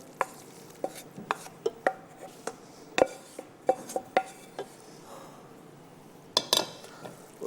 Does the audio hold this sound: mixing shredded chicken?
yes